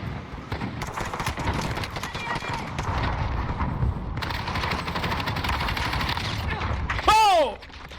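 Rapid bursts of gunfire during a video game gunfight, steady crackling shots running through the whole stretch with a louder shot near the end.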